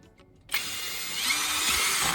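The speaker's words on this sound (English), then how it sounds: "use a drill to make 2 holes, one at the cap and one at the bottom of the bottle" A power drill whirs steadily as it bores holes into a plastic bottle, starting abruptly after a short near-silent moment and holding a loud, sustained buzz to the end.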